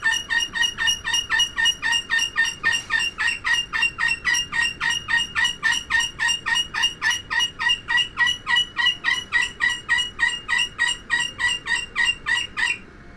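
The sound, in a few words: bird squawking in Titanic VR video game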